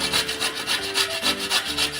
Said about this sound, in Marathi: आता आपल्याला किसणीच्या साहाय्याने या अशा काप आहेत या किसून घ्यायच्या।